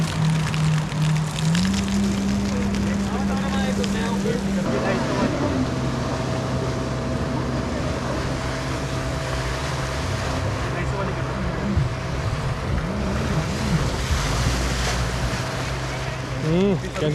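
Jet ski engine droning steadily on Tehri lake, a loud continuous motor hum that rises in pitch as it revs, with water and wind noise around and people talking over it.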